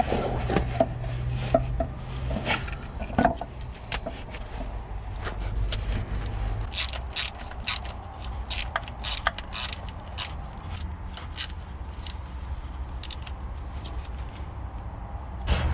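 Ratchet clicks and metallic tool work while a starter motor is fitted to a Ford Capri: irregular sharp clicks and knocks, some in quick bursts, close up over a low steady hum, with no talking.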